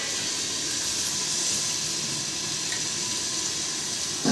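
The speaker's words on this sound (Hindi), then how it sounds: "यहाँ पर मैं छौंक दी हूँ" Spices tempering in a hot pan give off a steady, even sizzle and hiss close up, continuous throughout with no voices.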